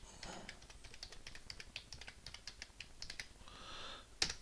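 Computer keyboard keys tapped in quick irregular bursts while a password is entered, crisp close clicks with a brief pause near the end and no talking.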